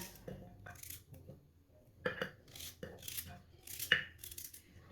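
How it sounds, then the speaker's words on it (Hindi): A knife chops peeled turnip into small pieces on a board, a series of crisp, irregular close-up taps and cuts at a quiet level. "सारे छलजम को इसी तरह काट लेना है"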